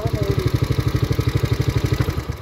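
Motorcycle engine idling with a rapid, steady pulsing chug and a faint clattery, off-sounding mechanical noise, close and fairly loud throughout.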